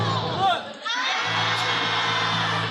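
A crowd of people shouts together on a leader's hand signal, a loud burst of massed voices that breaks off briefly, then swells into a sustained group yell.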